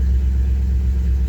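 A 1962 Chevy Impala engine idles steadily after a cold start on a hot day, a continuous low rumble heard up close with no talking.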